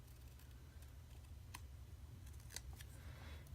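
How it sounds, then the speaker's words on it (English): Faint, quiet snips of scissors trimming a thin strip of paper or sticker sheet at a craft desk, a few light clicks over a low steady hum. "so I'm going to go ahead and trim that off."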